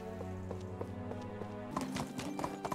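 Rhythmic clip-clop of horse hooves trotting steadily in the video game Medieval Dynasty over a sustained musical drone, the hoofbeats growing busier and louder toward the end.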